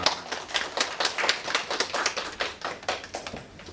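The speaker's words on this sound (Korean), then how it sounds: "우리 축복의 박수 하시겠습니다" A church congregation claps together during a Korean Thanksgiving Sunday worship service, a dense rapid patter of many hands held steady for several seconds and fading slightly at the end.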